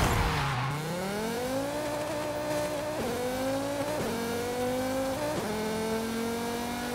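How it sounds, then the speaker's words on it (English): A Volvo 850R rally car in Forza Horizon 5 revs hard through a close, steady engine note that climbs in pitch and drops sharply at three gear changes, with no talk over it. "How about I do a bit of rallying in the Equestria Motorsports Volvo 850R?"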